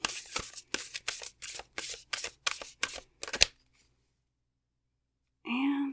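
A Nature's Whispers Oracle card deck being shuffled, about eight quick crisp riffling bursts in a regular rhythm, close and clear, then silence before a short voice at the end.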